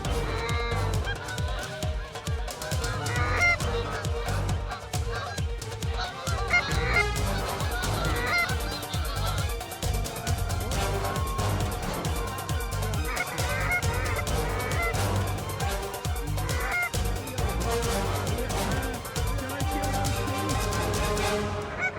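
A large flock of geese honks continuously during a goose hunt in Sweden, with dense overlapping calls that stay loud and busy throughout.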